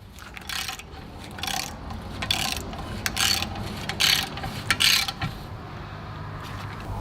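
A ratchet tightens a rusty exhaust manifold bolt back down, making bursts of quick clicking strokes that repeat in short irregular spurts with quieter gaps between them, close by and with no talking.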